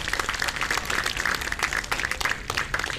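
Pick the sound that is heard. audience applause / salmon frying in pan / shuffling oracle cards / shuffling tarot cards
audience applause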